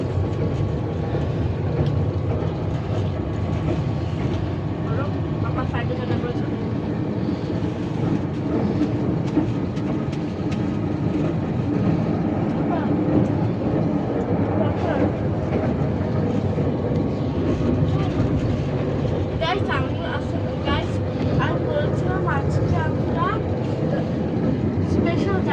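A moving passenger train heard from inside a rented cabin, with a steady loud rumble and faint rhythmic clickety-clack of the wheels on the rails running throughout.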